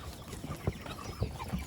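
Ross 308 broiler chickens, heavy meat birds similar to Cornish cross, cluck softly on grass pasture, with a few short clucks standing out over a busy low flock murmur and outdoor background noise.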